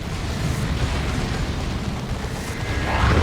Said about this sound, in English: there's a Cyclone Missile Launcher barrage doing huge damage